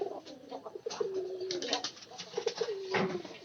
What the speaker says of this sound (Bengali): এই টিনের ঘরে যে কবুতরটা আছে এই কবুতরটা কিন্তু অনেক লক্ষ্মী